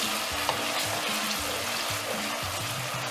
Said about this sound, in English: you add about a tablespoonful of your tomato puree. And then you keep stirring.